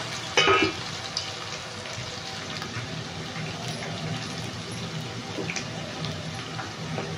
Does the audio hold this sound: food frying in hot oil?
yes